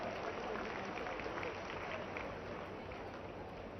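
Applause from an audience welcoming an organizer at a public event, dense and continuous clapping mixed with crowd noise throughout.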